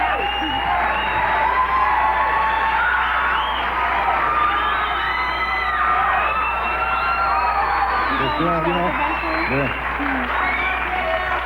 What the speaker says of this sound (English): They're still cheering the monologue